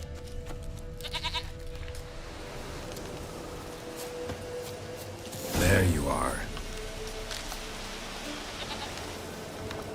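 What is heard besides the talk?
goat bleating in The Witcher 3 video game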